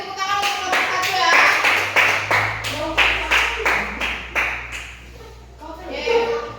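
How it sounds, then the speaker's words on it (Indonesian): A group of children in a classroom clap together for a presenting group, a run of quick hand claps in bursts up close, with a voice speaking faintly underneath. "beri tepuk tangan untuk kelompok 1 ya"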